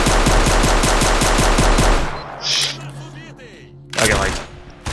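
A machine gun in STALKER: Shadow of Chernobyl fires a loud, rapid, even burst for about two seconds, then stops, followed by softer bangs and movement noise.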